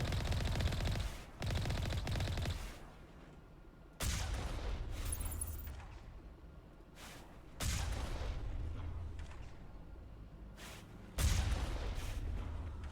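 Bursts of gunfire from the video game Mass Effect Legendary Edition, loud automatic volleys in several separate bursts with quieter gaps, heard alone without talk.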